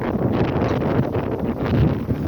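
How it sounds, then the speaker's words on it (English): Strong wind gusts during a Boston snowstorm, buffeting the microphone with a loud, continuous low rumble and rushing noise that swells slightly near the end. "it's pretty windy out here, guys. Definitely windy."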